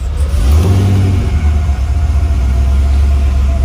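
A 3rd-generation Camaro's engine runs at a low idle, loud and close, with a steady deep rumble and a slight rise in revs partway through.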